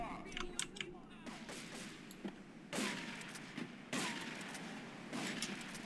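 Sawed-off shotgun blasts in the GTA III video game, several sharp broadband bangs spaced a second or so apart, fairly faint overall with some game background noise.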